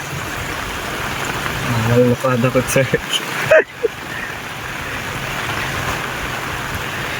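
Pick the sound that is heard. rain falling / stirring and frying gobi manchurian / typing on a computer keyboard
rain falling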